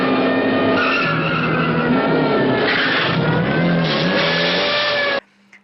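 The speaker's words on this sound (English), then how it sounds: "So you get like a 5-minute car chase." Car chase from the 1974 film Shoot First, Die Later: loud continuous engine roar with screeching, skidding tires and revving, constant intensity until it cuts off abruptly near the end.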